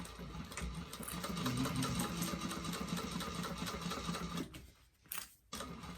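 A sewing machine runs a steady, fast top stitch on a convertible backpack, a close mechanical whir with rapid needle rhythm that slows and stops near the end.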